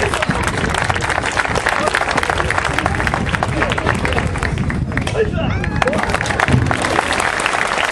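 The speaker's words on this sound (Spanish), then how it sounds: "fuerte el aplauso para estas técnicas" Crowd applause at a Shinkyokushinkai karate exhibition at a flower fair in La Paz, Uruguay, a dense continuous wash of clapping mixed with crowd noise and speech running steadily throughout.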